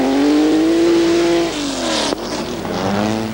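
A Porsche racing in a two-wheel-drive rallycross class, its engine note loud and close, rising and then dropping away with a sharp shift or lift midway, followed by renewed revving.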